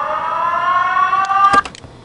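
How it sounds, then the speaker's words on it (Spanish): The stock siren sample from Virtual DJ's sampler plays as a steady, loud wailing electronic tone, then cuts off abruptly with a few clicks near the end. "la famosa sirena"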